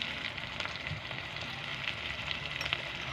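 Ground spices, turmeric, salt, red chilli and Kashmiri chilli powder, fry in a pan for a Bengali aila fish jhal, giving a steady, even sizzle with faint crackles throughout and no talking.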